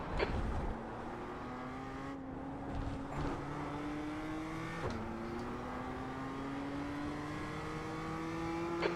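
A race car in the iRacing sim closes on and passes a slower class car at Autódromo Hermanos Rodríguez in the wet. The engine drones loud and steady, its pitch climbing through several gear shifts.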